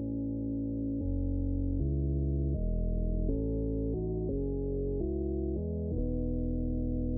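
A warm, mellow synth chord progression from melodic drum and bass, steady sustained chords changing about every three-quarters of a second, dark-toned and loud with no talking.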